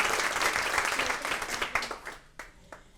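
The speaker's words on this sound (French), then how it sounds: "On peut l'applaudir, hein." Audience applause at a round-table event on women's career changes into digital work: dense clapping that thins out and fades to a few last claps.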